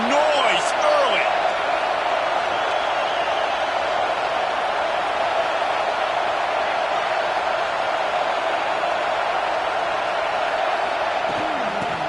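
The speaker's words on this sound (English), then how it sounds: "This crowd bringing the energy and noise early." A stadium crowd at a Miami versus Texas college football game keeps up a constant, loud roar that fills the whole stretch. Broadcast commentary runs over it.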